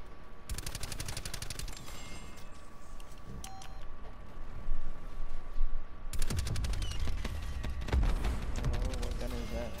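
Rapid automatic fire from the Hades gun in a video game rattles in dense, fast bursts, pausing briefly mid-way before resuming louder and heavier, with voices talking underneath.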